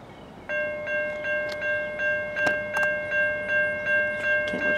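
Steady repeating tones pulse evenly over a low rumble as a northbound freight train led by Dash 9W locomotives passes through town, with a few sharp clanks mixed in.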